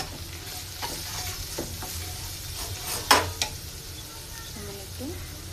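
Spice paste of coriander and chili powder fries in oil for a duck curry, sizzling steadily while it is stirred, with a sharp metallic scrape of a utensil against the pan partway through.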